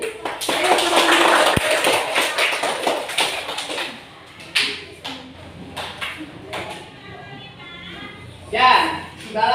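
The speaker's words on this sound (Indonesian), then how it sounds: "boleh tepuk tangan sekali lagi untuk kegiatan presentasi kita ini" Classroom applause after a student group presentation at a primary school, a dense burst of many hands clapping for about four seconds, then tapering into scattered claps and murmuring voices.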